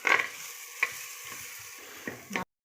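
A spoon scrapes and stirs masala frying in a clay pot for a homemade fish curry, giving a few short, close strokes over a soft, steady sizzle.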